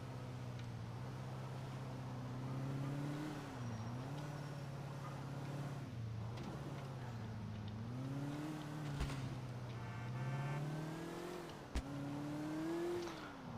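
A Moskvich 412 engine drones steadily in Grand Theft Auto IV, its pitch rising and dipping as the car speeds up and eases off. Two sharp knocks break through near the end.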